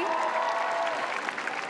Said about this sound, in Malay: Kita nak berikan tepukan untuk Kasidi